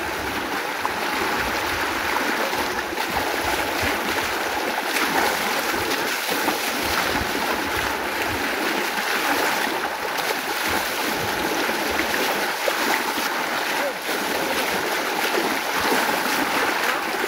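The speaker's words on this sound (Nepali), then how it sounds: "खोलाको पानी निकै स्पिड हुनको कारणले एकदम हामीलाई एकदम गाह्रो भइरहेछ।" Fast-flowing water of the Mechi river, a steady broadband rushing that holds at one level throughout, close and fairly loud, with no talking.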